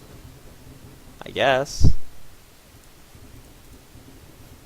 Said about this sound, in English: It's pretty loud. There are fireworks going on.